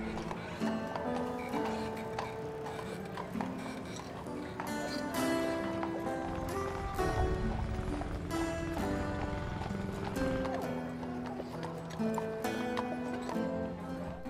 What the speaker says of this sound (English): Alison and Emory enjoyed a classic Mackinac Island horse-drawn taxi ride.